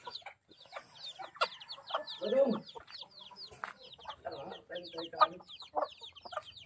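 Chickens cluck close by in a rural Philippine setting, with a chick peeping among them. Intermittent soft clucks and thin high chirps play over quiet background, with a brief lower burst partway through.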